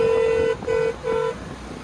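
A scooter horn toots three times in quick succession, short bright honks close by, followed by faint road noise.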